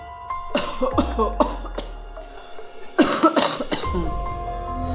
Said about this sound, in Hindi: घर के बाहर किसी के खांसने की आवाज सुनाई दी।